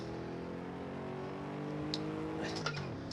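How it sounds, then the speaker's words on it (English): The V8 engine of a presidential limousine strains on the Nürburgring circuit with a steady, droning harmonic hum that sags in pitch toward the end, accompanied by a few faint ticks. "that's the engine's complaining"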